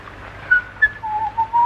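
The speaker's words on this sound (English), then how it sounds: "Oh, do stop whistling." A person whistles a wavering tune, close and fairly loud, with short rising and falling notes over faint background noise, from a 1935 film.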